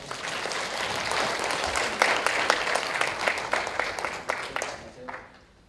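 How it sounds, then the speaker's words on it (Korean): Applause from a seminar audience in a Daejeon district office hall welcomes the head of the Korea Remodeling Association: steady, dense clapping from a moderate distance that thins and fades out near the end. "박수로 맞이해 주시면 감사하겠습니다"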